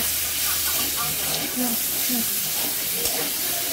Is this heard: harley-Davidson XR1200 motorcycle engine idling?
no